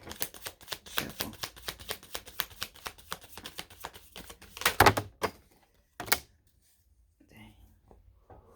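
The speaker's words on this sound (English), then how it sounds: "One more shuffle." Tarot cards being shuffled in a quick, crackling run, followed by a couple of thumps and then near silence.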